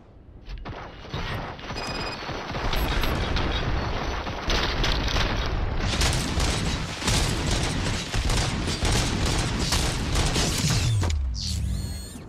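Sustained gunfire and mechanical clanking in a RoboCop Rogue City fight, dense loud bursts and booms for most of the stretch, ending in a short metallic rattle.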